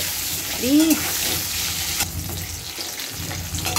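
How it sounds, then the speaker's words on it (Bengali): Potatoes frying in oil with salt and turmeric, a steady close sizzle with a brief high-pitched squeak early on and scattered clatter of the pan. "নুন আর হলুদ দিয়ে দিয়েছি, আলুগুলো একটু ভেজে নেবো"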